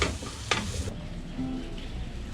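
Onions and ginger spice fry in a pan, giving a soft, steady sizzle close by. A couple of brief scraping stir sounds and a light clink come through the sizzle, and no one speaks.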